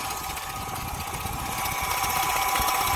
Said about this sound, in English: A jet ski with the engine full of fucking seawater.